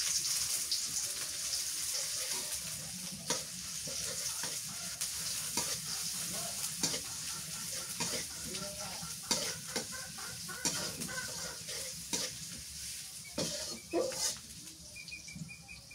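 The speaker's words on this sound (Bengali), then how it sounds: "এবার হচ্ছে তেলানি করি, সরিষার তেল দিয়ে দিই। পেঁয়াজ কুচি দিয়ে দিই।" Chopped onions fry in mustard oil in a pan, giving a continuous soft sizzle broken by frequent sharp scraping and clicking stirring strokes, close up and with no talking.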